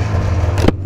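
A 1999 Polaris Indy Classic 500 touring snowmobile engine idles steadily up close after warming up, a continuous low hum with a brief rising burst near the end before it drops off.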